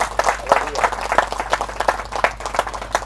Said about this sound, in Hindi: हम सब पास्टर संजय दास के लिए हम ताली बजाएंगे और परमेश्वर को महिमा देंगे।